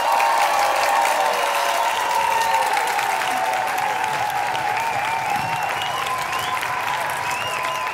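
Steady, dense applause from a large audience at a song contest final show fills the whole stretch, loud and sustained, with faint crowd noise mixed in.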